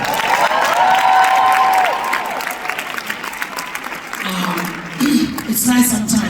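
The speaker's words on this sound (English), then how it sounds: "please give a round of applause to her" Audience applause at a women's investment conference, a dense wash of clapping from a crowd for a comedian, with a voice speaking over it part of the time.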